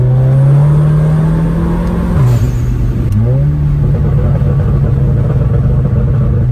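Volkswagen Golf Mk7 GTI with an IS38 turbo and custom tune in sport mode, downshifting from high RPM: a loud, sustained engine drone whose pitch dips twice as gears drop, then holds steady, close and alone.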